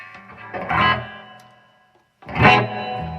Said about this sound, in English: Wow, sounds good, huh? With distortion. I'm using, if you ask, I am using a Roland Cube.